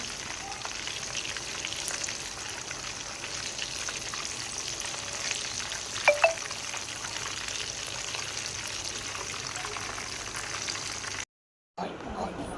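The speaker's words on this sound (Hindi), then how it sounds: "इसी तरह से दूसरे भी फ्राई करेंगे।" KFC-style chicken leg pieces deep fry in hot oil, giving a steady, soft bubbling sizzle throughout, with a couple of brief clinks near the middle and a short dropout near the end.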